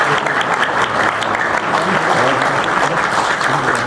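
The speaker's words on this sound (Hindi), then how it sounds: "जोरदार तालियां" Loud, sustained applause from a large crowd at a Hindu devotional gathering for a Hanuman Chalisa recitation, dense clapping that continues evenly without a break.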